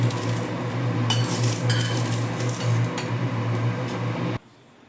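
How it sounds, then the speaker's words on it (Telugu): Tamarind leaves frying lightly in a pan, with a bright steady sizzle and occasional scrapes and clinks of a spatula against the metal, stopping abruptly near the end. "చింతాకు కూడా లైట్గా వేయించుకుందాం"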